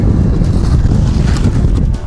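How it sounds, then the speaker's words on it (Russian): Strong wind gusting across a frozen sea during winter ice fishing, producing a loud, steady roaring buffet against the microphone that fills the whole clip without a break. "Да, ветер."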